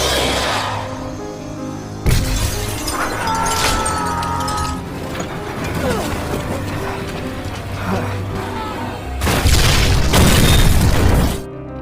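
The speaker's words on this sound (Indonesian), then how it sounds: "16 detik lagi bom akan meledak." A bomb in a van blowing up in the film Odd Thomas: a dense roar bursts in at about two seconds, churns loudly with debris and rumble, then swells into a second, even louder broadband blast near the end.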